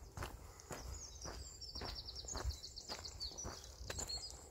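Outdoors on a farm near cows, small birds chirp in thin, high repeated calls, moderately close, over soft footsteps on dirt and light rustling, with no talking.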